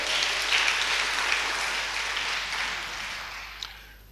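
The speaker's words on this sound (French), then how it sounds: "On peut applaudir le Seigneur puissamment pour la parole." A church congregation at a Sunday worship service claps together for the Lord, a broad sustained round of applause filling the room, holding steady and then gradually thinning toward the end, with no talking.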